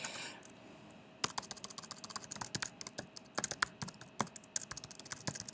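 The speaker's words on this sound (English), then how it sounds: "assuming that I can type this thing here" Rapid, steady typing on a computer keyboard at a desk, with crisp key clicks close to the microphone, faint at first and then running continuously for several seconds.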